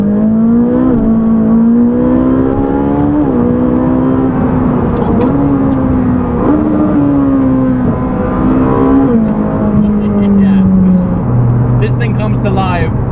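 A Ferrari 458 Speciale's engine, which revs to 9,000 RPM, drones loudly from inside the car, its pitch climbing and dipping in short steps as it pulls, with a voice talking over it.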